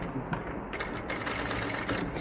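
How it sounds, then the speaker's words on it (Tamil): A sewing machine stitches a patch along the canvas of a blouse, a quiet, rapid mechanical chatter that starts and stops in short runs. "கேன்வாஸை ஒட்டியே தையல் கொண்டு வர போகிறோம்."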